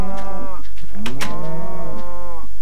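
Cows moo in the video game Minecraft, loud and close, with several long, drawn-out lowing calls that overlap one after another.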